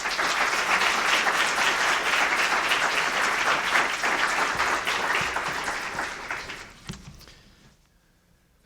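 Sustained audience applause welcoming speaker John Williams at a monetary policy workshop, steady and full for several seconds before tapering off into near silence.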